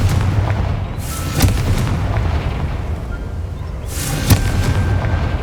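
A Confringo fire spell from the Hogwarts Legacy video game bursts twice, each a loud, close, booming blast with a trailing rumble over steady background ambience.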